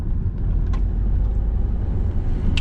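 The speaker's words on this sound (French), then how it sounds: "On relâche l'embrayage. On accélère tranquillement." A car engine in a driving-lesson car hums and rumbles steadily from inside the cabin as it accelerates gently after the clutch is released, a low continuous drone with faint clicks.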